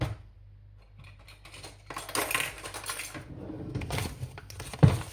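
Potato and a little flour being mixed in a bowl for potato cakes: close, irregular clinks and scrapes of a utensil against the bowl, growing busier toward the end, with no voices.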